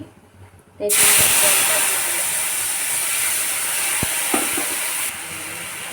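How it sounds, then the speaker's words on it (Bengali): A bay leaf, a dry red chilli and panch phoron dropped into hot oil burst into a loud, sudden hissing sizzle that holds steady and close, with a few clicks of utensils, after a quieter moment beforehand. "একটা শুকনো লঙ্কা আর অল্প একটু পাঁচ ফোড়ন দিয়ে দিলাম। এবার এটাকে ভেজে"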